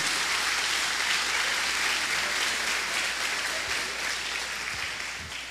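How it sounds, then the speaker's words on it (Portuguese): A church congregation gives God a round of applause, a broad steady roar of clapping that stays even and then gradually fades toward the end. "Você pode aplaudir a Deus por isso?"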